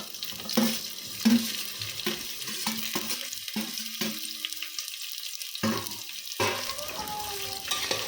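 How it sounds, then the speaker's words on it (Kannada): Ridge gourd being stirred in hot oil with curry leaves for masala palya, a spoon scraping and clattering in irregular bursts over a low sizzle, with quiet gaps between strokes. "ಹೀರೆಕಾಯಿಗೆ ಎಣ್ಣೆ ಹಿಡಿಯೋ ಥರ ಒಂದೆರಡು ನಿಮಿಷ ಹಾಗೇ ಮಿಕ್ಸ್ ಮಾಡ್ಕೋಬೇಕು"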